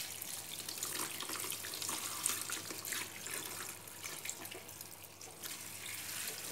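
Tap water runs steadily into a sink while softened, salt-soaked cabbage is rinsed for kimchi, a continuous close splashing wash with small surges and no talking.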